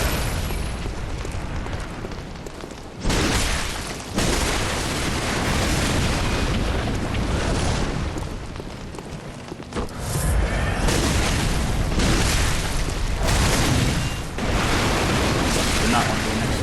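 Fireballs thrown by millipede-like enemies in Bloodborne burst in a string of heavy, roaring explosions with short gaps between them, loud and close, with speech underneath.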